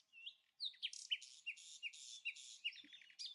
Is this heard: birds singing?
yes